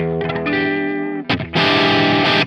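A Hendrix-style chord on electric guitar through an ODD Box v1 hard-clipping overdrive pedal, rich and harmonically dense, rings out, breaks briefly, then returns as a loud sustained strum that cuts off sharply.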